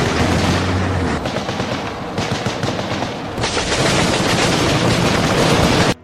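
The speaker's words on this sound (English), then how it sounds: "The Caspers advanced against the dug-in infantry, pouring in fire from their cannons and machine guns." Continuous heavy gunfire from Casspir armoured vehicles' cannons and machine guns firing on dug-in infantry, dense rapid automatic bursts mixed with booming heavier shots, loud and sustained throughout with no pauses.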